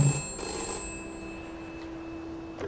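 A telephone rings in the video game We Happy Few, a steady electronic bell tone holding through the whole stretch with faint background ambience and no talking.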